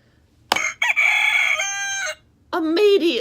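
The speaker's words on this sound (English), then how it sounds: "Immediately, a rooster crowed." A rooster crows loudly and close by, a long drawn-out call followed by a second crow after a short pause.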